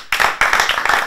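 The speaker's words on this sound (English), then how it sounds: "Applause! Yes, ladies and gentlemen, applause." An audience at a televised quiz competition bursts into a short burst of hand clapping, two quick waves of applause in close succession.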